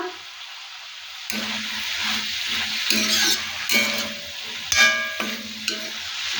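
Curry leaves sizzling in hot oil in a frying pan, a sharp crackling hiss bursting in after a quiet start and continuing steadily with stirring scrapes and pops, close and fairly loud.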